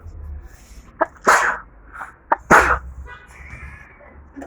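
Two loud, close sneezes in quick succession, each a sharp burst, with a few small clicks and quiet room noise between them.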